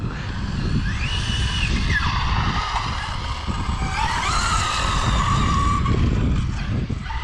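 A fast radio-controlled car skidding and sliding sideways, its tires squealing in long rising and falling sweeps over a steady buzzing motor whine, loud and continuous throughout.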